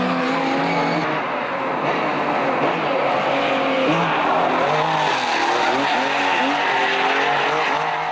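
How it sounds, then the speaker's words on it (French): A Porsche 911 rear-wheel-drive race car at a 1998 Champions Day motorsport event, its engine roaring steadily and close throughout while the tires squeal and skid in rising and falling wails. "une autre propulsion, et quelle propulsion, puisqu'il s'agit de la puissante Porsche 911"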